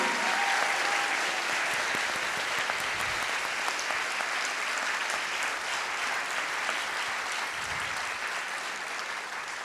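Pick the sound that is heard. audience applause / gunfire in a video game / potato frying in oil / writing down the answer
audience applause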